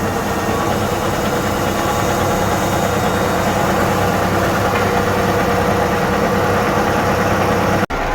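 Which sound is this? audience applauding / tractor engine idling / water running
tractor engine idling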